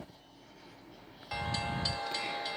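Freight train with a Conrail locomotive leading rumbles past, starting quiet and then jumping to a louder, steady roar of rolling cars with rhythmic rail clatter, heard alone.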